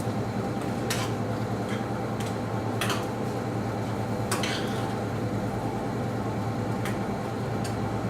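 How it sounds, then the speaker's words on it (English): Ingredients being stirred together in a hot pan: a steady sizzle underneath, with a few sharp scraping clinks of the utensil against the pan spaced a second or two apart. "Stir it all together"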